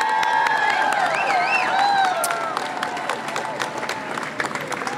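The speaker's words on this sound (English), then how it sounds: "let's give another round of applause to our incredible pro-life legislators who are just up that hill that way" An outdoor crowd at the Virginia March for Life rally applauds and cheers for pro-life legislators, with sustained clapping and whistles mixed with shouting voices that hold steady throughout.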